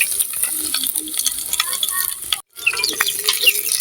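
Spices tossed into hot oil in a pan, a loud close crackling sizzle with stirring scrapes, broken by a brief dropout midway before the frying noise resumes.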